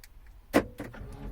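A Citroen C4 Grand Picasso locks with a single sharp clunk of the door locks, followed by fainter mechanical clicks and a low hum close by.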